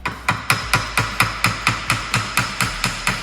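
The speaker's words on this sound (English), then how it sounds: "It's proving to be a little difficult to shove this into place, so I'm gonna try and hammer it in." A hammer strikes metal in a steady, even rhythm of about thirteen loud, ringing blows as a strut is driven into place on a Volkswagen Touareg, close up and with no talk.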